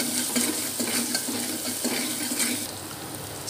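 A pan of curry with ginger paste being stirred, giving a steady sizzle with soft, repeated scraping strokes, close and continuous without talk.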